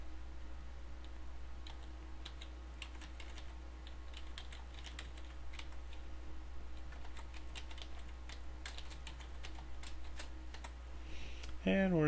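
Typing on a computer keyboard, a quiet, quick run of light key clicks continuing steadily against a low background hum.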